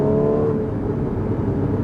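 Porsche Cayman 981 engine revving, a loud sustained flat-six drone that rises and then holds steady, heard up close without any talking.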